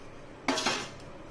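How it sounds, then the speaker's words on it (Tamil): Rice and lentils are washed in a metal vessel, giving a short clatter and scrape of grains and metal: two quick, close knocks followed by a fading swish, with no voices. "அரிசியும் பருப்பையும் ஒன்றா கழுவி எடுத்து வந்துடலாம்."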